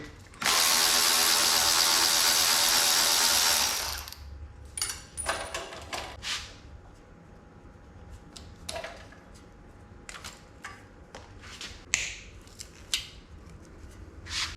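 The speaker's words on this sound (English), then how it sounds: "Take the starter cable off of here." A power tool takes the starter cable off a cheap $400 tractor engine during a tear-down: one loud sustained whirring burst of roughly three and a half seconds, then scattered clicks and light metallic clanks close by.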